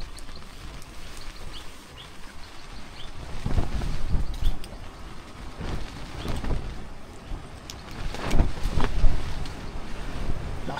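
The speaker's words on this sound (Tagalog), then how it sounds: "Lakas ng hangin" Strong gusty wind roars across a microphone at a foggy, rainy campsite at Maple Nature Camp in Sta. Maria, Laguna, surging in heavy buffeting bursts and easing between them, loud and close with no talking.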